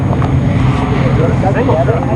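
Engines rumble and roar at the start of a GNCC Big Buck off-road race, with ATVs and side-by-sides pulling away. The loud, steady engine drone and wind buffeting run under a commentator's voice.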